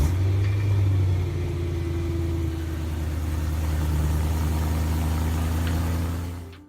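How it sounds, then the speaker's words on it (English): A BMW M3 V8 engine idles steadily and loud and close, with a deep, even rumble and a faint rise partway through that settles back to a smooth idle before cutting off at the end. "Press the start button and the V8 comes to life."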